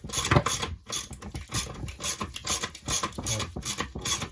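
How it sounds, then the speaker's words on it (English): Ratchet with an extension bar turning a nut off an A-Series gearbox during teardown, giving a run of close, rapid clicking and scraping strokes in uneven bursts. "we just got to take the nut off here using an extension bar"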